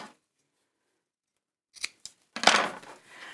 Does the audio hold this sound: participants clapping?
no